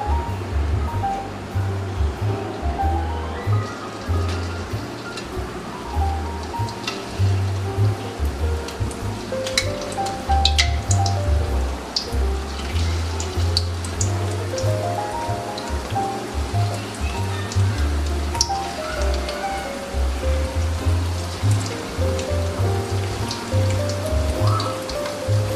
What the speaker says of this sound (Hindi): ऑयल को गरम करके इसके अंदर 1-1 बोटी अलग से उठा उठा के हमको फ्राई करनी है।